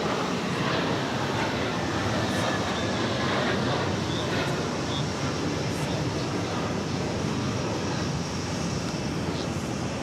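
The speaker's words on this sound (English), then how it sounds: "That was another Delta A330 touching down for right." A Delta Airbus A330-300 touches down at JFK airport, a broad, steady roar of jet engines and rushing air holding at moderate loudness for the whole stretch, with no talking.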